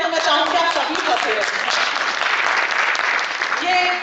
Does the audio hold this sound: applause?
yes